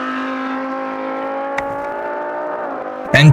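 A Formula 3 race car in the BeamNG video game drives a lap, its engine a steady high-pitched whine that slowly rises and falls, with a brief click partway through and a harsher burst at the end.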